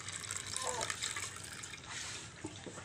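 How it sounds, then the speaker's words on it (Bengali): Herbal leaf remedy made from kalokesh, guava and pomegranate leaves being strained, giving a soft, continuous watery splashing and trickling of liquid at close range, with a few small drips near the end. "আমি এখন এটা ভালো করে ছেঁকে নিতেছি দেখছেন"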